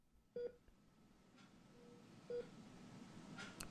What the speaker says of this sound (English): A series of beeps capture my attention.